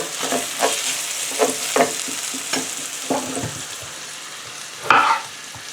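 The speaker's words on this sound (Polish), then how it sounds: "tutaj pomieszam cebulkę" Onions fry in a hot pan while being stirred, steady sizzling broken by repeated scraping strokes of the utensil and a louder clatter near the end, close and clear with no talk.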